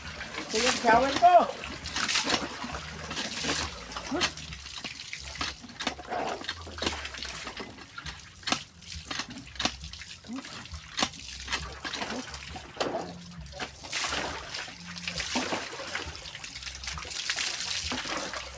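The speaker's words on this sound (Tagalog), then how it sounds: "Ito yung shower ko." Water from a home shower runs and splashes unevenly, with trickling and gushing bursts throughout, fairly close.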